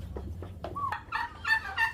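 Farm turkeys gobble in a quick burst of rising, warbling calls, fairly close and alone over a low background hum.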